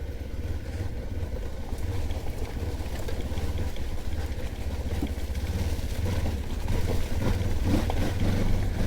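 Off-road motorbike engine revving hard while pulling through slippery mud on a trail ride, a continuous loud low drone that builds slightly toward the end.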